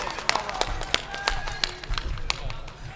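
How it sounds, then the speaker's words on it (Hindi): At an All India Mushaira in Baradaha, Madhubani, Bihar, an audience welcomes poet Hamid Bhusawali with scattered, crisp handclaps at an uneven, fairly quick rhythm over a murmuring room and a speaking voice. "पुरजोर तालियों जो शायर का इस्तकबाल कीजिए"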